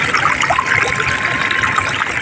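Clear water flows down from a hill in the Konkan region, a close, steady trickling and splashing stream that runs continuously and alone.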